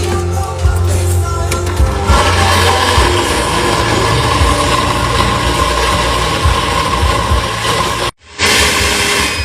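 A kitchen blender grinds ingredients with oil and no water for an ayam pop recipe, a loud, steady whirring motor drone that runs continuously before cutting out briefly near the end and then resuming.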